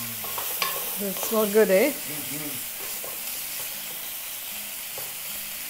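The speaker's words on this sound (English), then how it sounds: "Give this a stir" Sliced leek cooks in a pot for Polish sauerkraut soup, a steady low sizzle with light spoon taps and stirring, while a person speaks briefly near the start.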